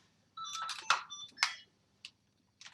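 A mobile phone rings with short bursts of bright electronic ringtone tones, sounding close and fairly clear, then two brief fainter chirps follow after a pause, with no one speaking.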